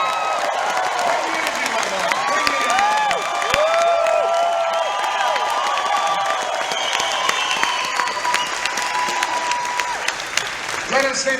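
An audience at a motivational event bursts into sustained applause and cheering, a dense wash of clapping with whoops and shouts, while a voice continues speaking over the crowd.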